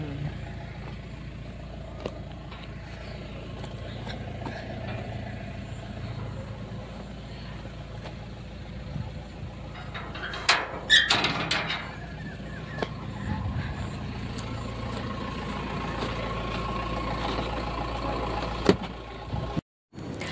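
A car engine idles beside a farm gate with a steady low hum. A brief louder clatter rises near the middle before the drone settles again.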